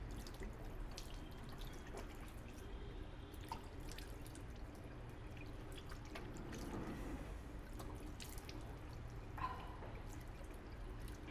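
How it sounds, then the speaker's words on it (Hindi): Water splashes and drips steadily while a face is rinsed clean after a natural homemade face scrub, a continuous soft wet trickle with small splashes, fairly quiet and close, with no talking. "पानी से रिंस कर लेंगे।"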